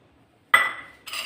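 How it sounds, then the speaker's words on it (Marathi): Chili pickle masala being mixed with lemon juice in a bowl, giving two short bursts of scraping and clinking, the first louder and fading, the second briefer, with no talking. "आता हे कालवून घेऊ आपण सगळे एकत्र"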